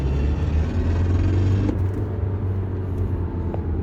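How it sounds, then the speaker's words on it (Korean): BMW 320d diesel car under hard acceleration, a loud steady low engine rumble and drone heard from inside the cabin, with a faint grinding, rattling undertone from an abnormal fault noise. "악셀을 세게 밟으면 그때 이쪽 부분 쪽에서 소리가 나거든요."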